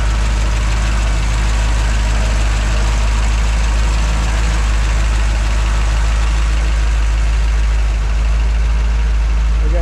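A restored 1955 Chevrolet 3100 Task Force pickup truck idles steadily, a loud, close, continuous low engine rumble with no speech throughout.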